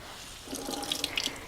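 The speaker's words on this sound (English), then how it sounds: "I'm just going to twist it over the sink." Water drips and trickles into a kitchen sink as a rinsed towel of sauerkraut is twisted and wrung out, the irregular splashes growing denser and sharper toward the end, close and fairly quiet.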